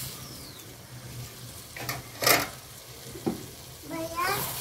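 Tomato pulp being stirred in a pan on the stove, with a faint steady sizzle and a few short scraping strokes of the spoon, quiet and close.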